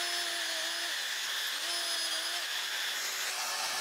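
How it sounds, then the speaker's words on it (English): Power drill whining steadily while boring pocket holes into a wood board for a sofa table, a high motor tone that dips and rises again over a few seconds, close and continuous with no speech. "Then I drill a couple pocket holes"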